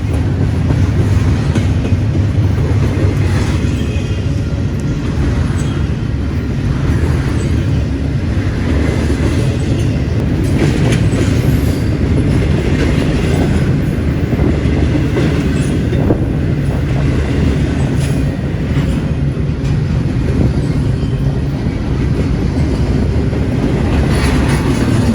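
A freight train passes a grade crossing in Sacramento, California, its loud, steady rumble of wheels and rail cars filling the whole stretch without a break, close by and with no one speaking.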